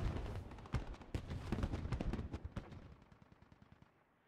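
Gunfire in the video game Squad, as U.S. forces shoot at a blue building, comes as dense rapid automatic bursts and sharp single shots that thin out and fade toward the end, with no voices.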